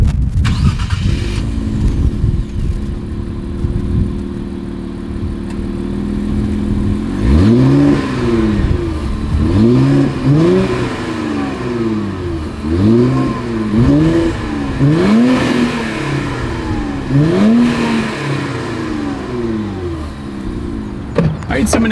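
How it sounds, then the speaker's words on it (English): A 2024 Infiniti Q50 Red Sport 400 starts up with a loud exhaust bark, settles into idle, then revs repeatedly in sharp rising-and-falling bursts, close and powerful. "As always, here is that exhaust clip."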